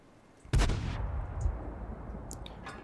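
An IS-7 tank cannon fires in World of Tanks: a single loud, close blast with a heavy rumbling decay, followed by a few faint, brief pops.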